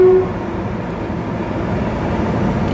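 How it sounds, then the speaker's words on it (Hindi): An Indian Railways train rolls past a level crossing with a steady, loud rumble and clatter of wagons close by, opening with a brief horn note. "ट्रेन आ रही है।"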